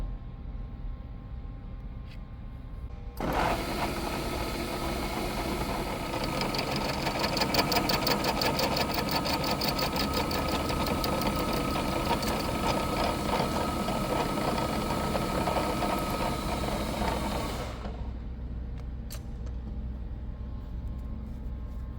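A machine tool takes a finishing cut in a cast iron bore on a vintage Huron slotting attachment after a weld repair, a continuous whirring, rattling run of about fifteen seconds that starts and stops abruptly against quiet shop background.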